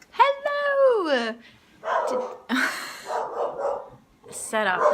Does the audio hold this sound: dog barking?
yes